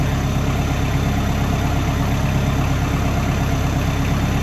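Kubota 5240 tractor idling with the clutch pushed in after light work: a continuous, unchanging engine drone at close range, with no revving or breaks.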